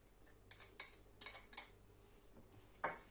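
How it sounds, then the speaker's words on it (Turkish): A spoon clinks and scrapes against a bowl in several light, irregular strokes as cinnamon and walnuts are mixed into dough, faint and close with quiet gaps between. "Bunları güzelce karıştırıyorum."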